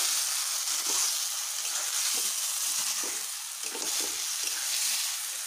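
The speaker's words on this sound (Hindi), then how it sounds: "अब इसको मैं फ्राई करूँगी।" Cut potatoes sizzling steadily in hot oil in a pan for aloo palak, a continuous close frying hiss with occasional stirring scrapes and no talking.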